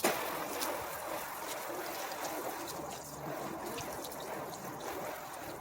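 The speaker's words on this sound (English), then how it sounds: "let's go ahead and give it a rinse." Water from a hose rinses a test panel coated with car-care products, a steady broadband spray and trickle running without a break from start to finish, fairly close and moderately loud, with no talking.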